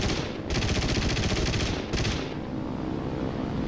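In the IL-2 combat flight sim, an aircraft gunner's machine gun fires in loud, sustained rapid bursts over a steady engine drone, with a short break in the middle before the firing resumes and then trails into engine noise.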